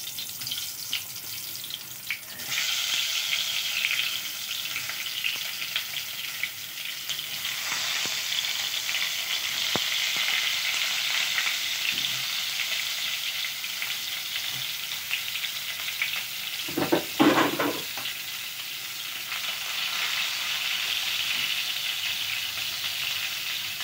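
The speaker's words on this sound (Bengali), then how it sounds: "এবার আমি কড়ায় তেল বসিয়েছি, তেলেতে আমি এগুলো ছেড়ে দেব।" Salted, turmeric-coated pointed gourd (patol) pieces go into hot oil in a wok and fry with a loud, continuous hiss that starts a couple of seconds in, broken by a brief clatter of stirring later on, with no talking.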